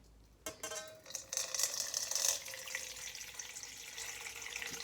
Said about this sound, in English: and then I'm going to add my hot water, and then I'm going to customise my water